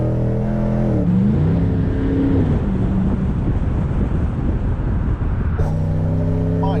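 A Morgan Aero 8 SuperSports engine revs hard, rising and falling through sweeping pitch changes, then settling into a loud, rough, close roar before another rev sweep near the end.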